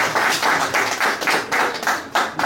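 Group applause with rhythmic clapping, a fairly loud, steady patter pulsing in waves, close to the listener, with no speech over it.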